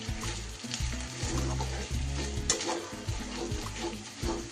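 Turmeric and Kashmiri chili powder frying in hot oil, a loud close sizzle with repeated low scraping and knocking stirs.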